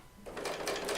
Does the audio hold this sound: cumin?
no